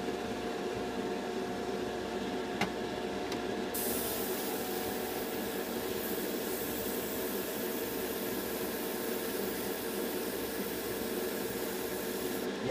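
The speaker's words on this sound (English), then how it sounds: "Compressor on." Airbrush spraying paint on a Trumpeter Stryker scale model kit, a steady broadband hiss of air and paint carrying on without a break over a constant compressor drone, close and fairly loud, with no voices.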